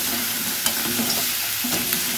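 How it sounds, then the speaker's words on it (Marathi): Crabs fry in hot oil while being stirred, a dense, loud, close sizzle that runs continuously with a couple of short scraping strokes, no voices. "ते खेकडे मस्त तेलामध्ये असे व्यवस्थित फ्राय झाले पाहिजे."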